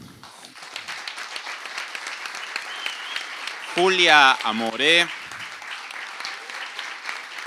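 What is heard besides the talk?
audience applause for the guests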